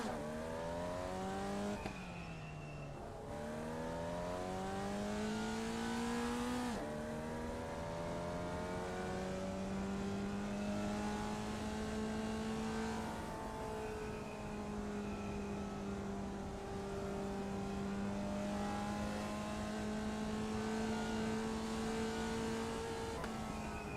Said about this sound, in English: I just enjoy racing this car flat out around here.